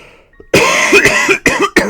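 A character in the video game Steins;Gate Elite coughs harshly several times in a row, loud and close, the bursts broken by brief pauses.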